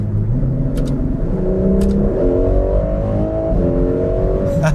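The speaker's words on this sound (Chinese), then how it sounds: "你将 830个 horsepower 输往后轮，当你在起步加速的时候，那个 G-force 啊" A Ferrari 12Cilindri's 830-horsepower V12 launches from a standing start, its loud, close engine note climbing steadily in pitch through the gears with no break.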